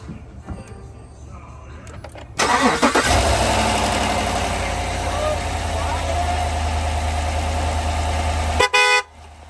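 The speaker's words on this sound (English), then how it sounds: "He's gonna start it. First start up, make sure there's no exhaust leaks." A rebuilt diesel engine in a shop truck cranks and catches on its first start-up, then settles into a loud, steady idle before cutting off; a car horn toots briefly, and a voice is heard faintly beforehand.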